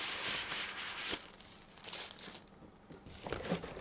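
Soft plastic crinkling as a bag wrapping Kiwi Ears Altruva open-back headphones is handled during unboxing, close and quiet with a few sharper rustles.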